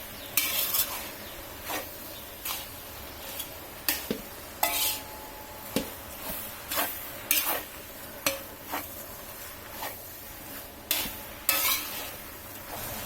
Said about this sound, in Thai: ระหว่างที่ผัดอยู่ก็หอมมากเลยนะคะ